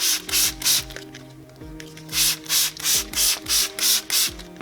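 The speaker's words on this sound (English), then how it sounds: "So now I'm gonna go ahead and spray down the tanks" Repeated short bursts of a spray bottle of vinegar and water on frog tank glass, about nine hissing sprays in a rhythmic series with a brief pause, accompanied by faint mechanical clicks.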